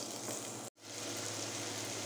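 Onions sauté in a hot pot for a spaghetti Napoli tomato sauce, giving a steady close hiss and crackle that cuts out for a split second before resuming.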